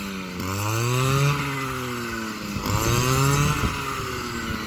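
A small engine whines and revs up and down twice, a loud, steady motor drone with rising pitch, a motorized rice-harvest cutting machine working close by.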